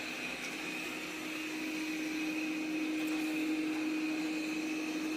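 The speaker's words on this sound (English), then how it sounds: "we can actually direct the vacuum to just clean this area for now" A robot vacuum cleaner spot-cleans one area indoors, giving a steady, fairly loud whirring hum with a constant high whine that holds for the whole stretch with no voices.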